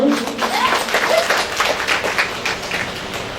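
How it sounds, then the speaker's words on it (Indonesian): Audience applause at the grand opening of the PSPP Penerbangan Makassar branch, steady crowd clapping throughout with a few voices mixed in at moderate loudness. "Saya mohon tepuk tangannya semua dulu."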